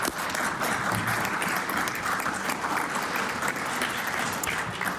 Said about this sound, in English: I invite all members of the House to rise and applaud the leadership of these Nova Scotians